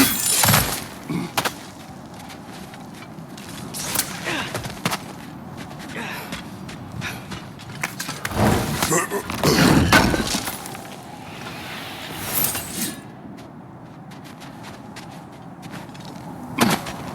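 Cracked ground smashed open in God of War Ragnarök, heard as several loud crashing, breaking impacts in bursts over a steady game ambience, with the biggest crunch in the middle.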